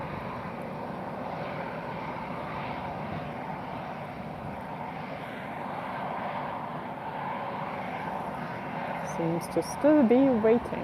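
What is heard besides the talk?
Lauda Airbus aircraft waiting to taxi at Lisbon Airport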